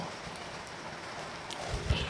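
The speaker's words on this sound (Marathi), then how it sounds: "खूप पाऊस पडतो बघा." Heavy rain pours steadily outside a college building, a dense continuous hiss with a few louder gusty surges near the end.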